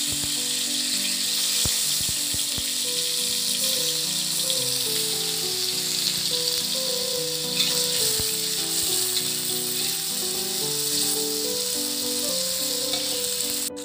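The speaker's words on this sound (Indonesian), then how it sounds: "Pertama, goreng dulu tahu hingga setengah matang." Steady, loud sizzling of tofu frying in hot oil, crackling continuously throughout with a faint melodic background tune.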